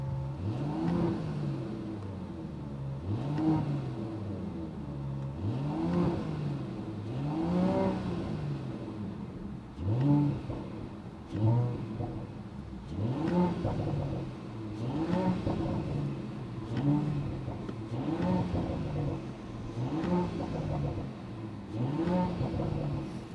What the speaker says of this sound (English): I really like this is the 53 specific sound, and while driving it sounds even better.